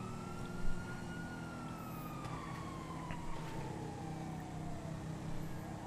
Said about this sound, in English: I'll hear sirens.